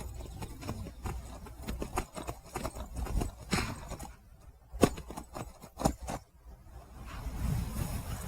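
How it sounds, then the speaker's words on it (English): Riderless horses clip-clop along in Skyrim, hooves striking in an uneven patter over ambient game sound, with a few sharper close impacts and no talking. "Now I have horses following me with no riders."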